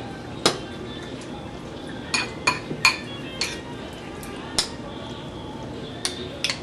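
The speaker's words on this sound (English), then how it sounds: "Mix that up so that it's just going to sit there and marinate." A rice bowl being mixed with black bean garlic paste marinade: a spoon clinks sharply against the bowl several times in an irregular rhythm, close up, with quiet pauses between strikes.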